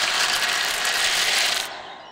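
Dry, continuous crackling and crunching of baby birds breaking out of their eggs in a nest, close and busy for most of two seconds before thinning out abruptly.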